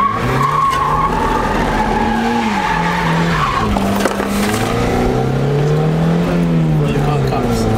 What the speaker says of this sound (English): we're over here trying to drift